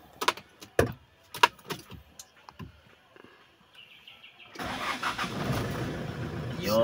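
A Kia Bongo truck with a D4CB diesel engine that has been failing to start, keys rattling and faint voices first, then the engine cranking and catching into a loud, rough diesel idle.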